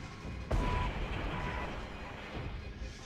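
Artillery shells striking units in the war game Regiments, a heavy sudden blast followed by a rumbling roar and a smaller second thud amid game noise.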